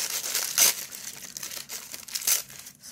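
Coffee-dyed tissue or tracing paper crinkles softly for about three seconds in a few irregular rustling bursts, close and quiet with no voices.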